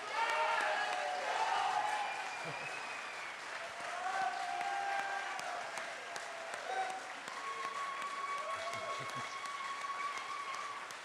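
Audience applause for congressional debate candidates in California, a steady broadband patter of clapping lasting throughout, with voices and cheering mixed over it at moderate distance.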